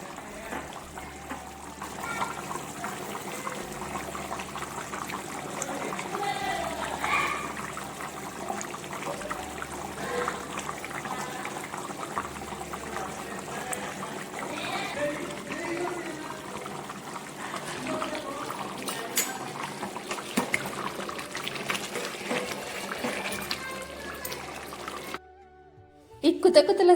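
A large pot of Telangana village-style mutton curry made with 2 kg of mutton and added water simmers under a lid, giving a continuous dense bubbling and gurgling texture that cuts off abruptly near the end.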